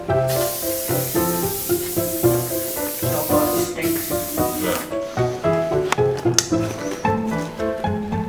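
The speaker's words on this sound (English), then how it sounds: "It's silicone, just lubricates the costume, gives it a nice genuine wet look" Silicone spray is applied to a costume in repeated hissing bursts, close and fairly loud, over what sounds like busy background music.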